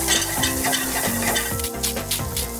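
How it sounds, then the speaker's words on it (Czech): Chopped onion and garlic sautéing in a pan, a loud close sizzle with the scrape and clatter of a spoon stirring, no voices. "Do základu dáme cibulku a česnek, krátce orestujeme"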